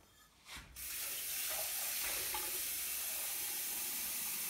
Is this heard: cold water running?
yes